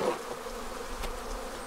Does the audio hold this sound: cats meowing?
no